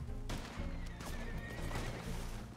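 A horse in the Red Dead Redemption 2 video game whinnies loudly, with clip-clopping hooves running underneath through the whole short stretch.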